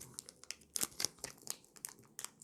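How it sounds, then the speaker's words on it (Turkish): A Pokemon card foil package being carefully torn and crinkled open by hand, with soft, quiet plastic crackles and small tearing bursts in an irregular rhythm, close and alone. "Paketi koruyarak açmak ne kadar zor."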